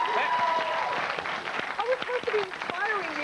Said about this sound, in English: Climactic applause